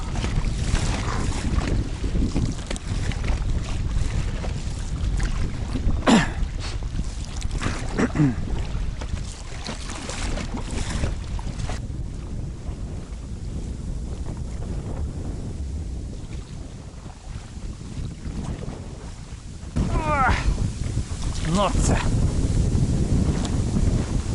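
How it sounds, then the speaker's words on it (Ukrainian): Strong wind buffets across a lake, rumbling steadily with splashing and lapping waves, easing a little midway before gusting up again. "тут вітер буде менший в цю сторону"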